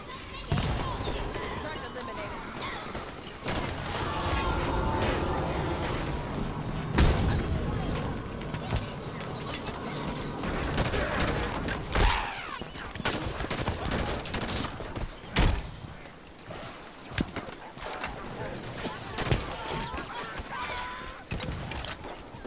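Sustained Halo 5 combat gunfire, rapid bursts and sharp shots clattering over a busy in-game soundscape with scattered impacts, running throughout.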